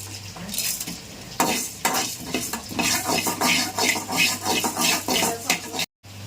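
Spices for a bitter gourd Rayalaseema-style spice powder are dry-fried in a pan with a loud, scraping spatula stirring in quick repeated strokes over a soft sizzle, with a faint steady hum beneath and a brief cut to silence near the end.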